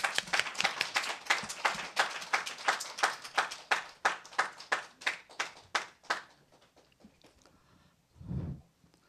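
A Sunday worship congregation claps again in a steady, rhythmic beat of sharp hand claps that gradually fades after about six seconds, leaving quiet room tone and a brief low thump near the end.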